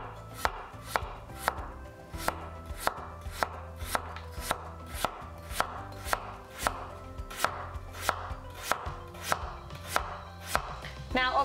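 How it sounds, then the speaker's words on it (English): Potatoes sliced thin with a knife on a board, a steady, even rhythm of sharp close cuts, about two per second, with nothing else heard over them. "So let's get these sliced and we'll add them in."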